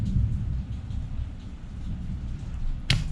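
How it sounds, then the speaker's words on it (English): Low, steady rumble of thunder outside during a South Carolina storm, a continuous deep roll throughout with a brief sharp crack near the end. "I don't know if you guys can hear the thunder."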